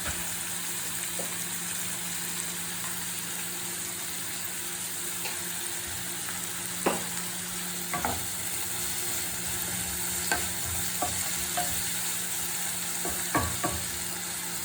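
Sliced onions with a little salt sautéing in a pan for a prawn roast, a steady close sizzle with occasional scraping clicks from stirring, no talking.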